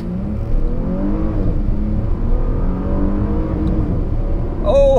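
A 2019 Porsche Panamera engine drones steadily and close, with the pitch climbing and shifting as it pulls away from a standing start, then ending in a brief higher-pitched whine.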